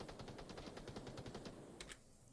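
Rapid bursts of gunfire from the Onward VR shooter game, a dozen or so evenly spaced cracks over about a second and a half, then two sharper shots near the end, fairly distant and with no talk.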